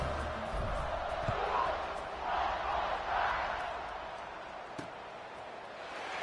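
A stadium crowd in the college football video game NCAA 26 roars before kickoff, a steady broad wash that swells twice in the middle and then eases, with a voice faintly present.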